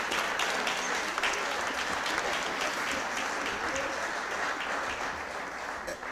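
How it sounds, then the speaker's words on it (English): An audience claps steadily for mothers at a Board of Aldermen meeting, a dense, sustained round of applause lasting several seconds and tapering slightly toward the end. "Let's give them a big round of applause"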